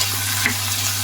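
Stirring drumstick and jackfruit seed curry in a pan on the stove, a brief soft scrape of the spoon over steady frying sizzle and a low hum, close and alone with no talk.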